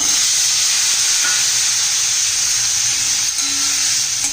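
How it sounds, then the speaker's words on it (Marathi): Homemade masala with turmeric sautéed in hot oil in a pan, a loud, continuous close hiss of frying with barely any stirring strokes. "हे सर्व छान परतून घेऊया मसाला आणि मग बटाटे घालून घेऊया"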